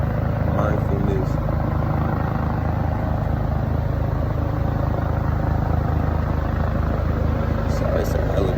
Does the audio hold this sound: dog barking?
no